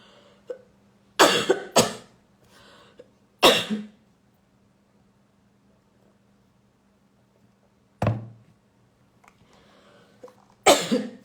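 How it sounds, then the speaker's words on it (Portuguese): A woman coughs repeatedly in short dry bursts, some doubled, separated by quiet pauses, heard close up and alone. "Estão vendo que dá tosse, dá garganta meio seca"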